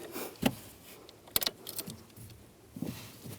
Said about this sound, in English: I'm gonna put the key in just very carefully.